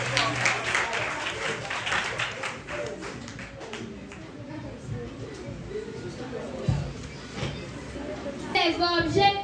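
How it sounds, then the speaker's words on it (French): Applause for children at a departmental school reading contest final: clapping fades early into background chatter and children's voices, with taps and scattered noise, and a brief tonal sound near the end. "Est-ce qu'on peut vous appeler un applaudissement pour ces enfants?"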